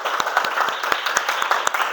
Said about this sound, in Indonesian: tepuk tangan untuk teman kalian semua